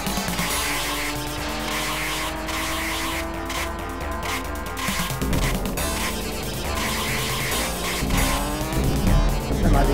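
Arcade top-down racer Badlands plays race car engines with tire squeals under a dense, loud electronic soundtrack, steady for the whole stretch with a slight swell near the end.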